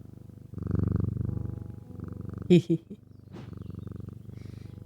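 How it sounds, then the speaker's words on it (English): A cat purrs in the video game Strange Antiquities, a steady low rumbling purr running throughout, with a brief sharper sound in the middle and faint game ambience around it. "Do you hear the cat purring in the game"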